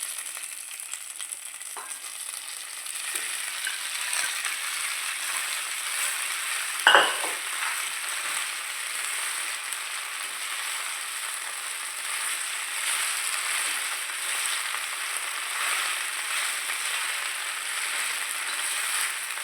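Cubes of idli frying with tempered onion in a pan, a steady soft sizzle under occasional stirring scrapes and one sharp clink of a spoon against the pan, with no talk.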